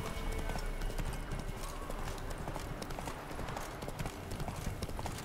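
Horse hooves clip-clop at a steady gallop in The Witcher 3, a dense, continuous rhythmic pounding close up, with a brief whinny and faint talk in the background.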